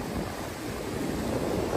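Surf rolls onto Galveston beach in Texas where swimming is not allowed, a steady wash of waves with wind buffeting the microphone throughout, no voices present.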